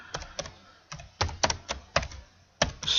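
Close, crisp keystrokes on a computer keyboard in a Mach3 screen-editing session, tapped in short irregular clusters with brief pauses between, each key landing as a sharp click with no talking.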